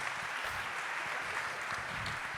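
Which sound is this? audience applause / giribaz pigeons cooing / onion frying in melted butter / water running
audience applause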